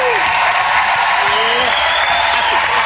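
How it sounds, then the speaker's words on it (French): An audience applauds the green team on a French-language television game show, a steady bed of clapping mixed with cheering and whooping voices rising and falling over it. "On applaudit l'équipe des Verts"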